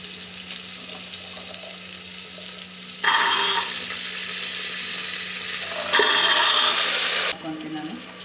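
Washed, soaked chickpeas tipped into hot oil with frying onion tempering: a broad sizzling hiss that flares suddenly twice, steady frying between bursts, close and fairly loud, with a faint background hum.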